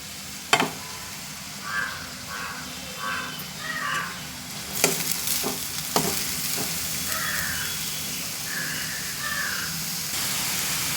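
Onions and green chillies fry in sesame oil in a pan for a simple home-style dish, giving a steady, close sizzle throughout with a few sharp clatters of stirring near the start and middle, and no voices.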